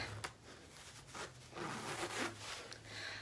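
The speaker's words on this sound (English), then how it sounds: "And then zipper up." A zipper is drawn up a waist trainer in a few short, faint rasping pulls, quiet and close, with no talking.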